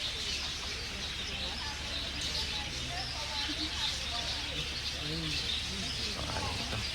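A yellow bird calls in the botanical garden at Konoko Falls, Ocho Rios, Jamaica, with faint high chirps scattered through a steady murmur of outdoor background noise.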